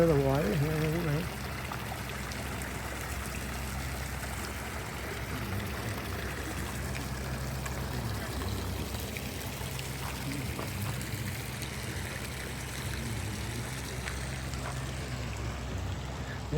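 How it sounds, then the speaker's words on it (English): Water from a fountain in a public city garden splashes and trickles steadily at a moderate distance, a soft continuous rush heard under street ambience with a brief voice near the start. "You can hear the water here a little bit."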